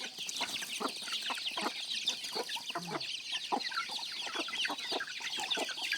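A flock of chickens clucking around a rural village farmyard, a steady chorus of short, repeated clucks and calls, close and continuous for several seconds with no talk.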